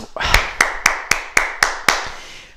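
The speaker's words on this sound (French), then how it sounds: "Et on s'applaudit." A small exercise group in a martial-arts style training session claps together after finishing a drill, about seven sharp, evenly spaced claps in a steady rhythm, close and fairly loud, with no talking.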